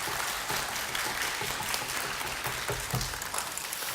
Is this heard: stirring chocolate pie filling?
no